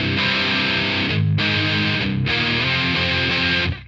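Electric guitar played through a Moen Phoenix Song distortion pedal, giving loud, thick distorted chords in sustained phrases with brief breaks between them, then a cutoff near the end, with no talk over it.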